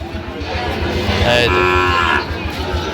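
A Sahiwal bull lets out a loud, drawn-out moo nearby at a cattle market in Shariatpur, with faint crowd noise in the background.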